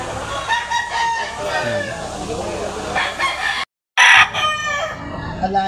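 Roosters crow and hens cluck busily at a market in Lipa, Batangas, a loud, layered farmyard chorus that cuts out briefly near the end before resuming.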